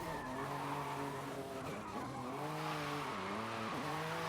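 A car drifts in the Forza Horizon 5 racing game, its tyres squealing in long wavering tones over a steady engine roar, loud and continuous without talk.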